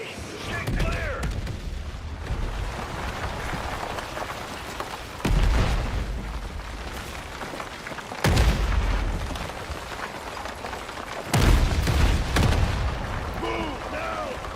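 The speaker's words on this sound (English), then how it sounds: "Incoming artillery!" Heavy artillery shells burst in a war video game, three big booming impacts landing a few seconds apart over constant gunfire and battle noise, with voices shouting over the chaos.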